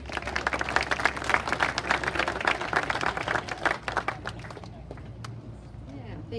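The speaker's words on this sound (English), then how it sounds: "So let's give her a round of applause." Audience members at an elementary school opening and ribbon cutting clap in a dense burst of applause that carries for about four seconds before thinning out and fading into quiet room sound.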